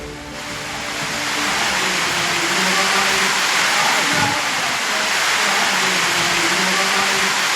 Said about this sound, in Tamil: மலைக்கோயில் படிக்கட்டுகளில் அருவி போல் கொட்டிய நீர்.